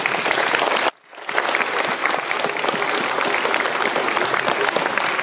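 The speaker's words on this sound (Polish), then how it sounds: "Dlatego teraz wszyscy bijemy i brawa i dziękujemy." Audience at the opening of a children's karate league in Raszyn, 2019, clapping loudly and continuously, with a brief break near the start before the dense applause resumes.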